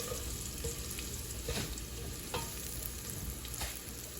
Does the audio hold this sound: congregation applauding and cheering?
no